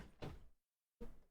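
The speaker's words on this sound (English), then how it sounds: "My cat just decided to like knock every bottle of liquid off of my desk" A cat knocks two bottles of liquid off a desk, giving two separate loud thuds about three-quarters of a second apart, with a short silence between them and no talking.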